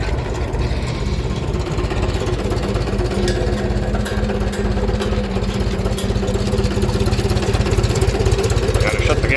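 A tractor engine with the PTO engaged runs steadily and loudly throughout, a continuous rumbling drone with no pauses.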